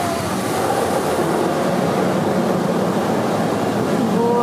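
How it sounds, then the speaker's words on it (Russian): Water sprays steadily over a car window during a wash, a constant loud hiss heard from inside the car without pause. "Смотри, как поливает вон у папы стеклышко."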